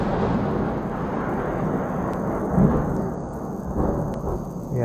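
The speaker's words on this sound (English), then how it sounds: "we had some thunder clapping just now" Thunder rumbles over heavy rain, a low, continuous rolling that swells slightly midway and stays steady and broad throughout, with no talk.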